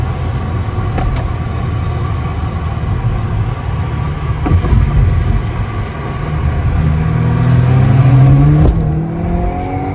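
A Volkswagen MK7 GTI fitted with a Cobb cat-back exhaust drives along, its engine note rumbling loud and close with rising revs and shifts, a stronger pull building near the end.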